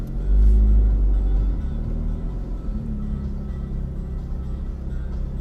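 A Ferrari engine rumbles through the streets of Nice, France, with a deep low surge at first that settles into a steady, close drone, heard without any talking.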